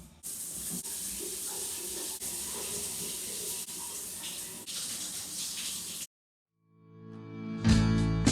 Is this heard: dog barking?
no